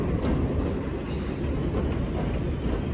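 A New York subway train rumbles steadily along the rails in the Bronx, a dense continuous roar heard from inside, with no voices.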